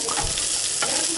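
Onion fries in a hot pan, heard as a brief, dense hiss of sizzling with light crackle throughout.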